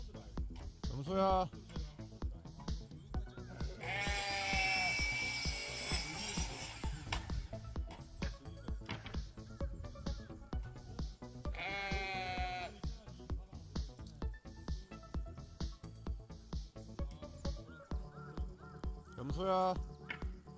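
Goats bleat in several loud, wavering cries, each lasting a second or two and spaced apart, over a busy background of clicking and rustling noise.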